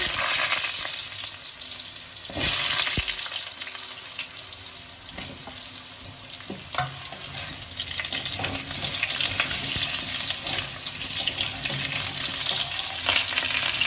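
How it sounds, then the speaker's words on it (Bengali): Cut potatoes hit spiced oil in a pan and sizzle steadily, with a louder burst as they go in, scattered stirring clatters and a faint watery hiss underneath, close and continuous throughout. "দেখুন এবার আমি কেটে রাখা আলুগুলো দিয়ে"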